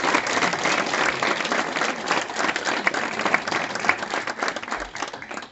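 An audience at a tamburica music evening breaks into loud, sustained applause, dense clapping that holds steady and tapers slightly toward the end.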